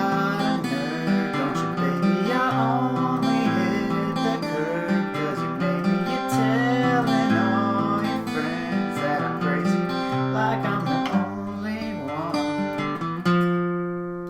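Guitar playing the verse of a song, a steady run of strummed chords and melodic lines that stays loud and full throughout, with no voices, before easing into a held chord at the end.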